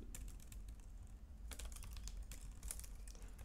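Fingers tap out an email address on a computer keyboard in rapid clusters of soft clicks over a low, steady room hum, quiet and close, with a brief pause before a second burst.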